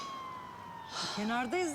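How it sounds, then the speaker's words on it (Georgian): An ambulance siren approaches on a street, starting faint and rising into a loud, wavering wail over the final half-second. "სასწრაფო მოდის."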